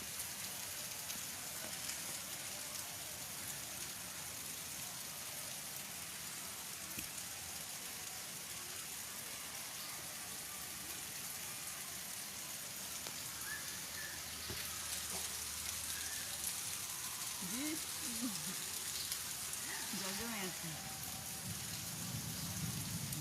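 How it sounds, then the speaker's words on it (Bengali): Heavy rain falls steadily, a broad constant wash of drops on surfaces, fairly faint, with a few brief distant voices toward the end. "জোরে জোরে বৃষ্টি হচ্ছে।"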